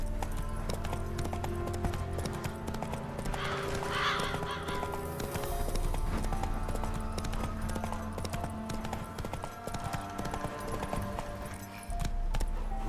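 Roach the horse gallops in The Witcher 3, hooves pounding in a quick continuous clip-clop over a layered game soundscape, with a brief neigh early on.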